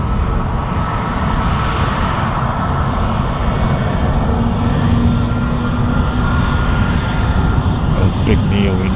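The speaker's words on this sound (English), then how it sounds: "Those big Neo engines." Airliner with large Neo jet engines taxiing at Tampa airport in winter-storm conditions, a loud steady engine roar and whine filling the whole stretch close by, unbroken throughout.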